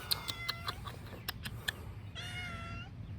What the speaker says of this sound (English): This is a stray cat that hangs around the area sometimes.